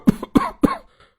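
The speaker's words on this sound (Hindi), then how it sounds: "तभी ससुर के ज्यादा नमक खाने से खांसी आ जाती है।" A man coughs three times in quick succession after eating food that was too salty, harsh and close, followed by a faint throat sound.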